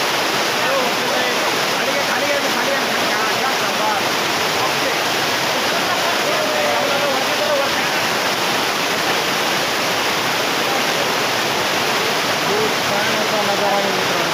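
Water pouring steadily over a waterfall, a loud continuous rushing roar that fills the whole stretch with no pauses and no voices.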